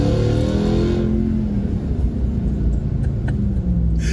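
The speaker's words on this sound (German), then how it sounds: "damit man eben diesen wunderschönen V8-Sound hört mit der Grail-Anlage" A Dodge RAM TRX V8 fitted with a Grail exhaust revs, giving a loud deep rumble that rises then settles into a steady idle, heard close with no talk.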